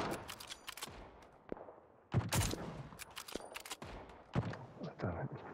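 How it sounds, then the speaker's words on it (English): Scattered gunfire during a PUBG battle royale match: faint, distant single shots and short bursts crack irregularly, with a couple of louder volleys standing out against quiet surroundings. "People are shooting from here as well"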